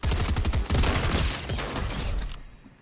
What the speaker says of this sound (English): Justin, you're in the wide open with everybody firing at us.